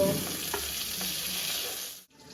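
Panch phoron spices and dried red chillies sizzling in a little hot oil in a pan, a steady close crackling hiss that drops out abruptly near the end.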